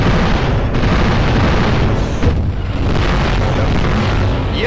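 Loud, continuous explosions and booming rumble from the Wii video game Space Trek, dense and unbroken for the whole stretch with a few sharper bursts near the middle.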